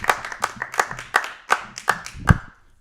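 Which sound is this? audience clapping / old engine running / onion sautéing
audience clapping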